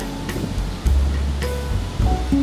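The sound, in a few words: ocean waves behind hotel pool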